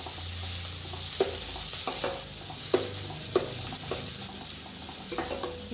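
Onion frying in hot oil with cumin, stirred until brown: a steady close sizzle runs throughout, broken by several sharp spatula scrapes and taps against the pan.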